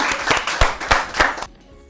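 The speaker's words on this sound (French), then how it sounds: "Applaudissez encore les" An audience at a children's stage show claps and applauds in quick bursts, loud and close, for about a second and a half before cutting off abruptly into near silence.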